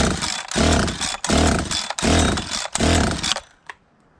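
A Husqvarna 365 Special chainsaw engine, under rebuild, revs in about five loud, close bursts before cutting out abruptly, leaving a brief faint sound and then near silence.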